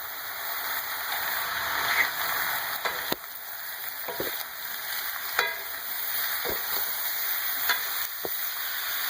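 Chopped garlic and green chillies frying in a pan, a steady bright sizzle with occasional spoon scrapes and taps as they are stirred, close and fairly soft.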